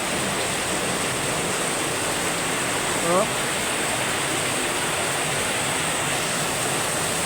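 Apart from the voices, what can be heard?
heavy rain pouring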